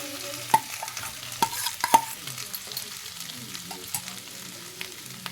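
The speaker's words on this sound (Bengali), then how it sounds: "আমি সেদ্ধ করা আলু নিয়েছিলাম, এখানে ম্যাশ করে হাত দিয়ে ভালো করে মেখে এই আলুটা এর মধ্যে ঢেলে দেবো।" Mashed boiled potato is tipped into a pan for dosa filling and stirred, a quiet close-up sizzle under sharp clacks and scrapes of a spoon against the pan, with no speech.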